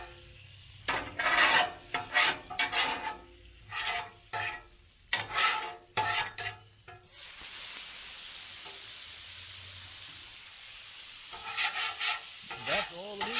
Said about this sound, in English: Blackstone Griddle cleanup is real easy to do